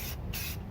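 A spray can hisses coating onto a rear fender rust repair on a Genesis Coupe in two short, close bursts, quiet overall, with no talking.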